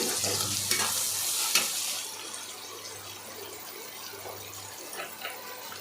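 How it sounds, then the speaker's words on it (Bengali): Onions frying with a little salt, stirred often so they don't burn; a loud hissing sizzle that fades after a couple of seconds, with scattered scrapes and clicks of a spoon against the pan. "তার মধ্যে অল্প পরিমাণে নুন দিয়ে পেঁয়াজটাকে ভাজতে হবে"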